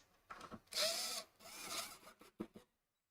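A power driver sets screws back into hard spalted beech on a hidden projector table, giving several short whirring bursts with small gaps between them, close and fairly quiet, then silence.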